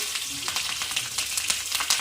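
Loud, steady sizzling of green chillies hitting hot oil after mustard seeds during tempering, with sharp crackles and pops scattered throughout the bright hiss.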